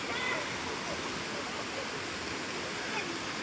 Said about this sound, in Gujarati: નદીનો ફોર્સ વધારે છે વરસાદના હિસાબે, ઉપરથી પાણી વધારે આવે છે.